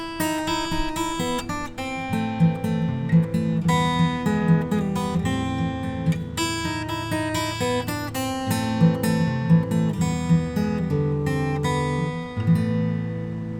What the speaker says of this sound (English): Maybe on the guitar, I can add in some chords as well,